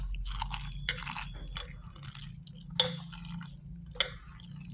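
Cabbage being scrubbed and washed by hand gives close, crisp squeaky rubbing bursts at irregular moments over a low background hum.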